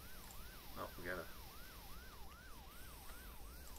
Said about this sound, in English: Yep, fire department, ambulance heading to that other call.